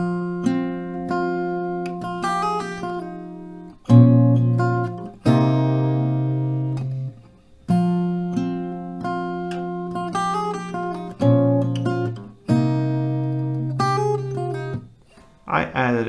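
An acoustic guitar slowly picks a melody, with clear single notes and chords ringing out in phrases separated by short pauses, close and alone.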